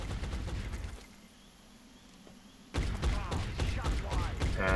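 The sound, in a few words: suppressing gunfire in XCOM video game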